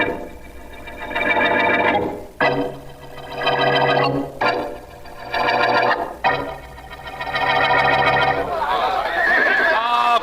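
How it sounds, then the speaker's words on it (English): Horses whinny loudly and close by, four long neighing calls following one another with barely a pause between them. "Keep those horses quiet, will you, fellas?"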